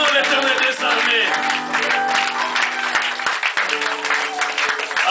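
A church congregation applauds at a Sunday anniversary service, the claps loud and continuous, with crowd voices and sustained tones mixed through the clapping.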